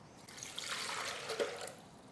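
Two cups of water pour into a Vitamix blender jar, a soft rushing trickle that swells and fades over a couple of seconds in a quiet kitchen.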